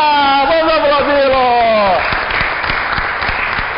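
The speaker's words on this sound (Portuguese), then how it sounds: "Vamos aplaudir o Luiz Vieira! Vamos aplaudir!" An audience applauds Luiz Vieira, a steady wash of clapping that swells in once a voice stops speaking and continues to the end.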